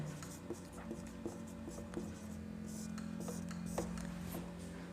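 A pen writes out a math solution by hand, a soft, close scratching of short strokes and taps over a quiet background hum.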